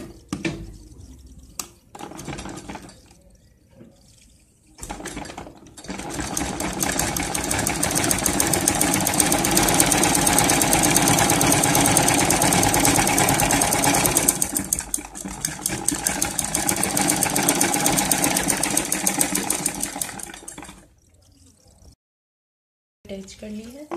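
A sewing machine stitches an old jeans handbag, its motor whirring in a steady, close, loud run of about fifteen seconds with a short slowdown midway, framed by quieter handling noises before and after.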